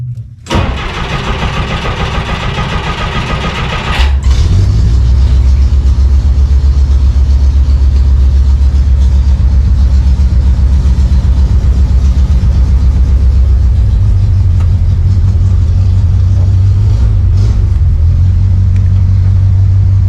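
A sixty-year-old vehicle engine with a hand choke cranks briefly, catches around four seconds in and settles into a loud, steady low idle with small surges, close by and with no talk over it.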